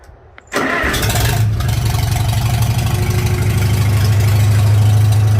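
A Farmall Super MTA tractor engine cranks and fires after a moment of quiet, then settles into a loud, steady, low rumbling idle up close.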